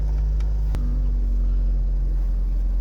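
An Austin Allegro engine idling with the choke off, a loud steady low rumble close by, with one brief sharp click partway through and no talking.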